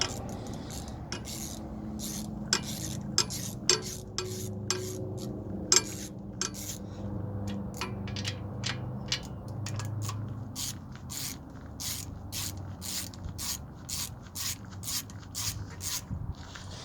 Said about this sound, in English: since I burned the shit out of my hand, I'm using a wrench